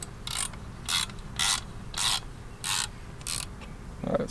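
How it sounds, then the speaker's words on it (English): A T12 ratchet loosening an exhaust clamp on a BMW 340i axle-back install: six rhythmic bursts of rapid ratcheting clicks, close and clear, separated by short pauses, with a small metallic knock at the end. "we're just going to go ahead and loosen the clamp"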